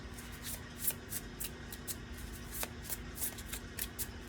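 Prophecy cards shuffled by hand for a reading, a steady run of soft riffling flutters and light slaps repeating for several seconds, close and fairly quiet with a faint hum underneath.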